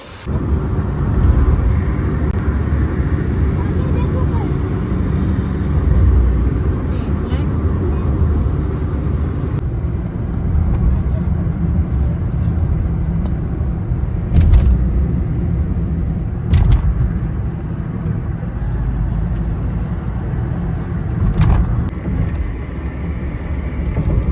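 A car driving on the road heard from inside, a steady loud rumble of engine and road noise throughout with occasional faint clicks and knocks.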